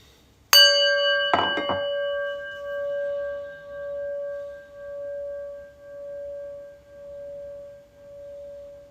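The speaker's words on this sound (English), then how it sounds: "And the bell." A meditation bell is struck to open a prayer session: one bright strike, a quick second touch, then a long pure ring that wavers and pulses as it slowly fades over a quiet room.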